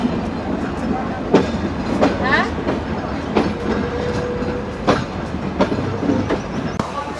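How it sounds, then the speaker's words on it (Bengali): The Rupsha Express passenger train runs at Kotchandpur railway station, close and fairly loud, with rhythmic clickety-clack wheel beats, metallic knocks and a brief wheel squeal under a steady rumble. "আর এই হচ্ছে রূপসা এক্সপ্রেস ট্রেন, যেটি হচ্ছে লাল সবুজের ট্রেন।"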